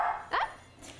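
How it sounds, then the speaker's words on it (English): A Samoyed puppy lets out one sharp, impatient bark close by during a training session, followed by a faint high whine, with no talking over it. "So the reason why he's barking is because he's getting impatient"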